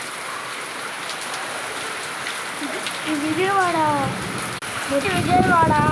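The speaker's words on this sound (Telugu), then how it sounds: "చూడండి ఎంత పెద్ద వాన పడుతుందో" Heavy rain pouring down in Vijayawada, a steady close wash of falling water with someone talking over it during the second half.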